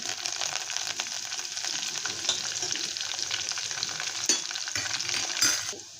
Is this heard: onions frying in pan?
yes